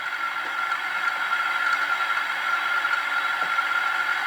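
A steady hiss and whir from the refrigeration unit sound module on an HO scale ScaleTrains Rivet Counter Trinity 82-foot reefer car in BNSF scheme, a continuous even noise with a faint tonal hum, no talk.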